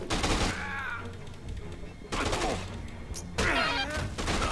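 Assault rifle fire from Dead Rising 2 comes in three loud bursts of rapid shots, split by short pauses and mixed with game effects.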